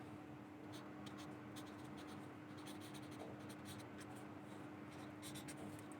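Chalk or pen writing during a grade 4 math lesson on common factors, heard as faint, irregular scratchy strokes in short bursts over a low steady hum in a quiet room.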